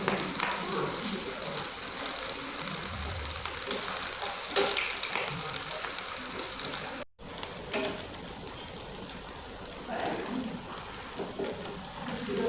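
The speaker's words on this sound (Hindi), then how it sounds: "ये हमारी लास्ट टिक्की थी, इसे हम थोड़ा सा और फ्राई कर लेंगे।" Aloo tikki, a potato patty, sizzles steadily in a hot pan with a dense, continuous frying hiss, fairly close and even throughout, with a brief dropout midway.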